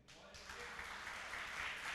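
A church congregation applauds during a sermon, a steady wash of clapping that swells and holds across the moment, with voices mixed into the crowd noise.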